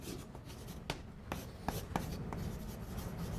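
Marker or chalk writing on a board during a calculus lecture on continuous functions, soft scratchy strokes with a few sharper taps, faint and fairly close.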